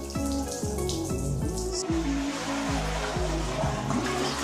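Water runs steadily from a tap in a newly built house, a continuous broadband rush with a hollow plumbing tone, close and loud for the whole stretch with no talking.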